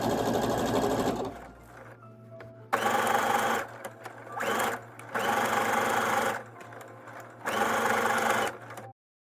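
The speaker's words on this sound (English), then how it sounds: "after I stitch them closed, I do a zigzag stitch along the seam" A sewing machine runs a zigzag stitch along a seam in linen and vintage lace, buzzing close and loud in four bursts separated by short pauses before stopping abruptly.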